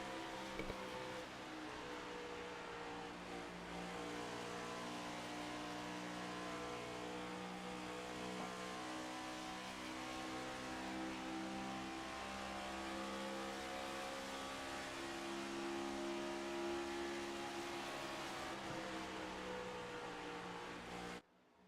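iRacing race cars at Michigan, a sustained layered engine drone with multiple harmonic tones from cars running close together, steady and moderately loud throughout with no talk.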